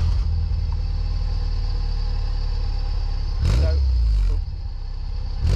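A classic Mini with a non-standard exhaust idles with a low steady rumble and a brief blip of revs, while people talk over it.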